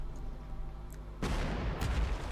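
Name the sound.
artillery shelling in video game Panzer Corps 2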